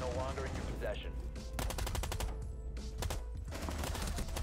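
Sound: gunfire in the video game Rainbow Six Siege

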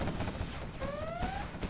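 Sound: quad cannon gunfire in C&C Zero Hour video game

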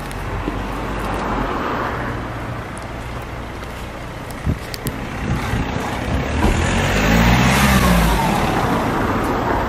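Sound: Lamborghini LP560-4 with Armytrix exhaust revving in tunnel

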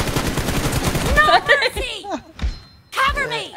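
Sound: gunfire in video game BGMI

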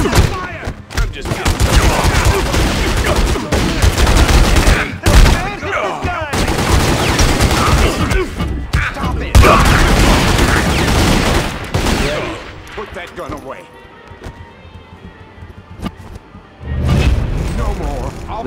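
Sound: gunfire in The Godfather II video game

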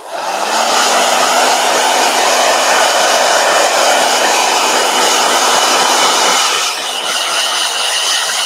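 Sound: blow dryer drying watercolor painting

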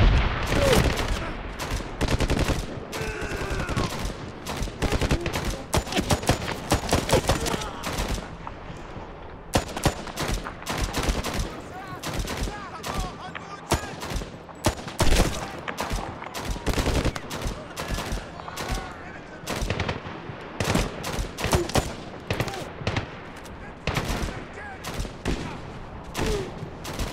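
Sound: gunfire in Medal of Honor Tier 1 video game

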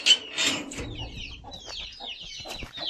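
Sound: hen clucking with her chicks

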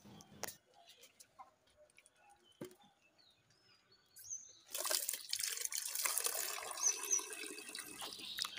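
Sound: water poured into dry duck feed

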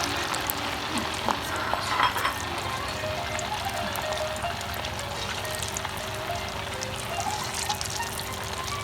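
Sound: stuffed meatballs frying in olive oil

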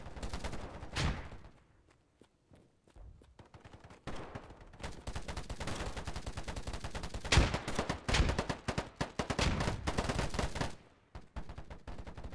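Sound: gunfire from a gun in the video game POLYGON

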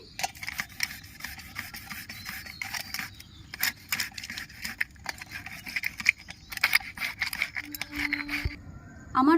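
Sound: grating ginger, garlic and tomato

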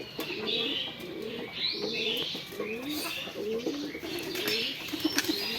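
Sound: pigeons and doves cooing

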